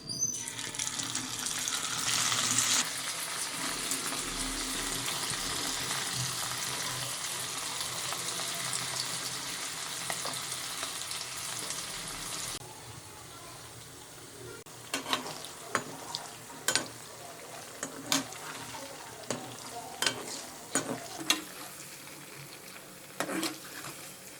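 Chicken 65 pieces fry in hot oil with a continuous dense sizzle for about half the time, then quieter bubbling broken by sharp clinks and stirring knocks.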